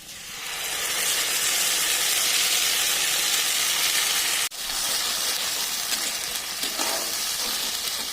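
A spice paste of ginger, garlic, dried chilli and cumin is dropped into hot oil with fried onions while cooking bhetki fish, giving a loud, steady sizzle with a short break midway before the hiss resumes.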